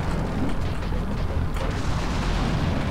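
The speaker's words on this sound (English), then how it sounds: "Because we're running low on cannonballs. Cannon. Boom!" Cannon firing a cannonball in the video game Serious Sam HD: The First Encounter, a loud, heavy rumble of booming blasts filling the whole clip, with one sharper impact near the middle.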